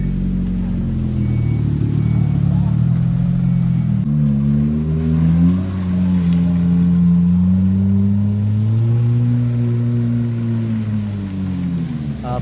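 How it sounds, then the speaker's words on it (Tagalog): A car drifts through mud at an outdoor car show event, its engine revving loud and steady with rising and falling pitch, close and sustained throughout. "Pre, titingnan natin mag-drift si Kuya Joel."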